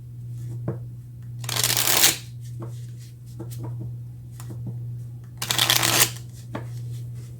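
Tarot cards are shuffled close by in two distinct riffle bursts with soft card taps in between over a low steady hum, and no one speaks.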